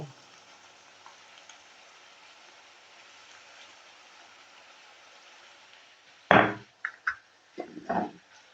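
Mixed vegetables fry in a pan with a faint, steady sizzle for several seconds. Then a few sharp knocks and scrapes of stirring come in close succession near the end.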